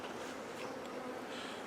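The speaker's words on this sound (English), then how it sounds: "There's a bee in my pants!" A bee buzzes close by, heard during a beekeeping swarm capture just after a sting, a faint, steady insect drone with no voices over it.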